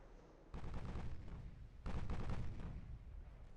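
Naval gunfire in Ultimate Admiral: Dreadnoughts with Royal Navy ships, two broad booming salvos rumbling and decaying one after another at moderate distance, with no voices.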